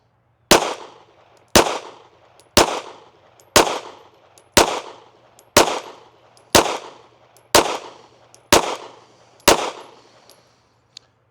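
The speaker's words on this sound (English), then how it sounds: "let's shoot another 10-shot group at that middle left target" Ten pistol shots from a carry gun fitted with a red dot, fired one at a time at a target about a second apart, each a sharp, loud crack with a short decaying echo and nothing else between.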